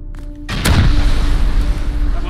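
A rocket launcher fires in the game Rust, a sudden loud blast that rolls into a sustained rumbling roar, with voices talking over it.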